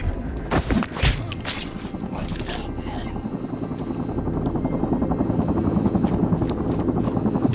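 A helicopter in the video game Sniper Ghost Warrior 3 with loud, rapid rotor chopping that grows steadier and more pulsing, preceded by a few sharp gunshot-like bangs and brief game voices.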